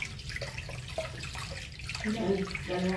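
Tap water running steadily into a container, a close, continuous splashing flow that deepens in tone toward the end as the vessel fills; no voices.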